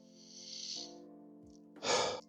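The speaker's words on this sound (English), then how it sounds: "So let's do a first sniff." Close sniffing of Afnan Rare Carbon perfume: a drawn-in breath through the nose, a short pause, then a sharper, louder second sniff over a faint steady hum.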